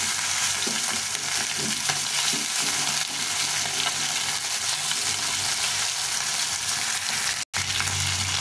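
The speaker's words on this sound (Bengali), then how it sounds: "মাছগুলো ভাজা হয়ে গেছে, এখন উঠিয়ে দিই।" Fish frying in mustard oil in a pan, a steady close broadband sizzle that runs continuously throughout without talk, with one brief dropout near the end.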